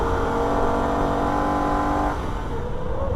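A Holden VF Ute engine drones loudly at a steady pitch on the Nürburgring, then the tone drops abruptly as it shifts back into third gear.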